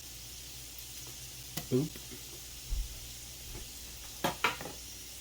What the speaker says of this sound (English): we are going to add 1 tablespoon of unsalted butter